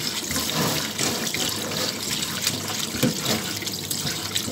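Tap water runs steadily into a sink while a fish is rinsed, a close, continuous splashing stream with small irregular splatters and no talk.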